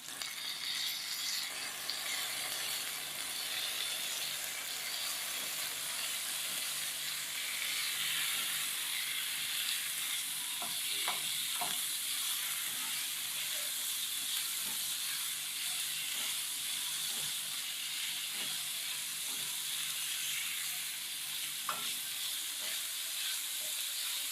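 Chicken pieces fry in a pan with a steady, dense sizzle that runs without a break for the whole stretch, broken only by faint occasional clicks and pops.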